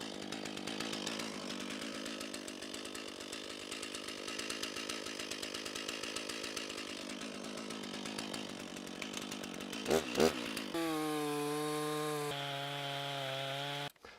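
A file rasps along the edge of an axe in rapid, regular strokes, ending with a few scrapes and a steady tonal hum.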